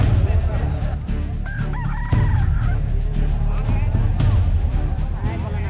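Roosters at a village cockfight in rural Jharkhand crow loudly and repeatedly amid a noisy crowd, with people talking throughout.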